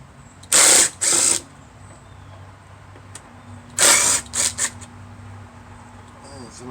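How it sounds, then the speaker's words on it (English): A power driver spins screws out of a Troy-Bilt 6.75 hp mower in short, loud whirring bursts, two close together, a pause, then one longer burst and a couple of quick blips, close up over a faint background hum. "Go ahead and whiz these screws off of here real quick"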